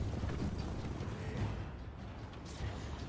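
Hooves of Chaos Knights of Tzeentch clatter in a steady, busy clip-clop across the Total War Warhammer 3 battlefield, mixed with low rumbling battle noise and no talking.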